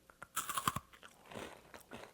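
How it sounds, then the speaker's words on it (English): Coffee Crisp wafer bar being bitten and chewed close up, a burst of crisp crunches followed by softer, duller chewing, quiet and without talking. "It's more of a crispy cookie wafer."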